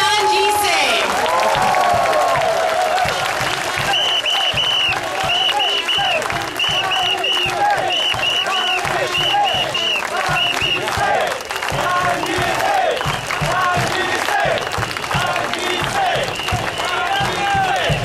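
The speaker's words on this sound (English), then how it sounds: "a rousing applause for Mr. Tan Ji Singh" Loud, sustained applause and cheering from a large crowd at an outdoor presidential election rally in a stadium, steady clapping with whoops and shouted voices mixed in throughout.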